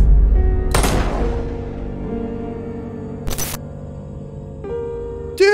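Sharp gunshots ring out in a video game, a loud crack near the start followed by a slowly decaying ring, then another crack a few seconds later and a softer click-like report near the end.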